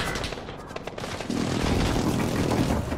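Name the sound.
precision airstrike explosions in the video game Call of Duty Warzone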